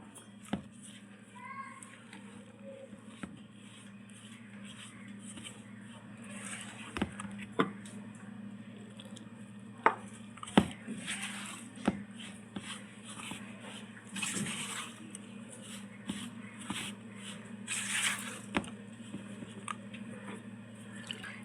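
Hot water is poured bit by bit into chapati flour and stirred in, giving soft wet squishes and small splashes over a low, steady kitchen hum, with a few sharper clicks.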